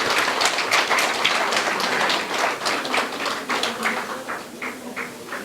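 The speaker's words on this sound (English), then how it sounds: "Let's give a big round of applause to the Suva City Council" An audience applauds at the opening of an upgraded flower vendors' market section, steady dense clapping that thins slightly toward the end, with no voice over it.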